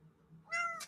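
A pet cat named Sekhmet gives a single short, clear meow close by, rising sharply after a quiet stretch of faint room noise.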